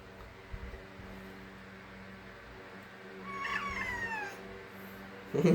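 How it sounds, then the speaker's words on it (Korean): A cat gives a single drawn-out meow, fairly close, over a steady hum of background noise, followed by a brief rustle. "고양이다 고양이 아유 고양이다"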